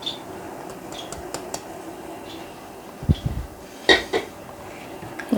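Shahi tukray ingredients are stirred in a pan with scattered metallic clinks and scrapes of a utensil, sparse and fairly close, with a few sharper knocks toward the end.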